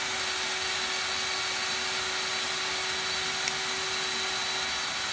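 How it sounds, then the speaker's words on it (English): Two EGO LB5302 cordless leaf blowers running together in turbo mode, a loud, constant, even whoosh with a steady whine on top, close up and unbroken. "I've got both blowers running. They're both in turbo mode."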